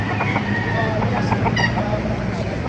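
Rooster crowing and hens clucking at a gamefowl yard in Baliuag, Bulacan, a continuous busy fowl din with overlapping calls and people talking nearby.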